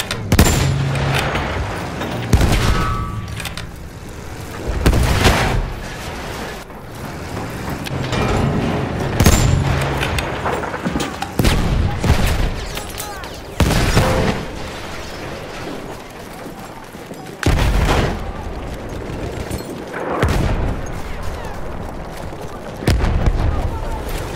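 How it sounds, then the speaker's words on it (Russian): Bursts of machine gun fire in Battlefield 1 during a Volga River conquest battle, repeated loud volleys with booms and clatter, mixed with shouted in-game voices throughout. "Пулемет!"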